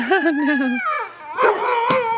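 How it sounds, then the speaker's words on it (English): Dogs yip, whine and bark excitedly beside a road in Northern California during blackberry foraging, with high, wavering, eager cries close by and a couple of sharp barks near the end. "Even the dogs are excited."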